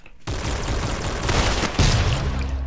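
Rapid gunfire in the Roblox game Arsenal, a loud dense burst of repeated shots with a heavier boom partway through, continuous and close with no talk.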